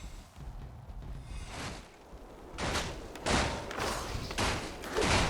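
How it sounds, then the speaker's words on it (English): Fiery spell blasts striking units in a Warcraft 3 battle, several heavy bursting thumps landing in quick succession over a busy rumble of combat. "Decent Breath of Fire there to start things off."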